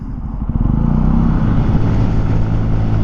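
A 2018 Benelli TNT 135 motorcycle pulls away and rides, its small engine giving a loud, close, droning hum with a rising pitch.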